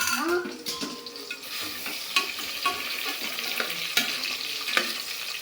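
Ginger garlic paste sizzling in a hot pan while being stirred, a steady close frying hiss broken by scrapes and clinks of the spoon against the pan.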